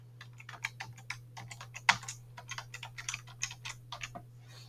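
A computer keyboard being typed on while entering a MySQL root password, with a quick, irregular run of close, crisp key clicks and one sharper tap partway through over a low steady hum.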